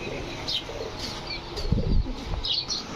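Domestic pigeons at a pigeon farm give soft coos and short bursts of wing flapping, close and fairly quiet, over faint background noise.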